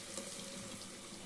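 Water pours steadily as a grinder jar is rinsed out in a home kitchen, a faint, continuous splashing flow with no voices.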